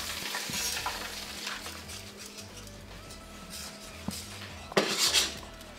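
Brussels sprouts sizzle in hot fat in a pan, a low steady frying hiss broken by utensils stirring and scraping, with a louder clatter of metal near the end.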